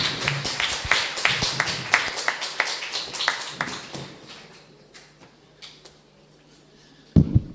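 An audience at a panel presentation claps for a round of applause. It starts as dense clapping, thins out to a few scattered claps, and ends with a single sharp knock.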